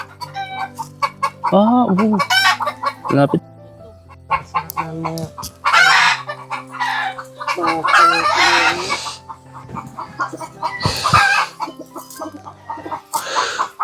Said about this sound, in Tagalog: Anong manok to?